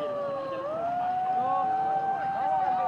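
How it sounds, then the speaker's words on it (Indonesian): A siren sounds at a four-string kite-flying competition in Kampung Bendang, Sungai Sariak, holding a loud, steady tone that slides upward and then sustains, with faint crowd noise beneath. "Sirine sudah berbunyi."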